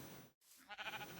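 A sheep in the video game Minecraft gives a short wavering bleat that is fairly faint, following a brief gap in a quiet background.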